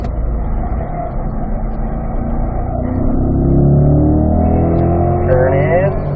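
Corvette engine on a racetrack during a driving school session, a steady loud drone that climbs in pitch as the throttle is rolled in, with rising harmonic sweeps near the end and a voice talking over it.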